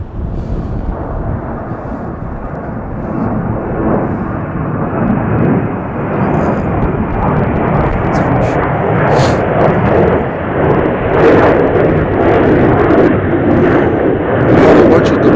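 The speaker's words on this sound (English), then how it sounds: "Got a flight, Frontier flight, 1410 coming in from Phoenix. They are definitely fighting that wind." A Frontier Airlines plane lands in strong wind at Chicago O'Hare, a dense, loud rumbling roar that holds steady and strengthens toward the end, with heavy gusty wind noise on the microphone.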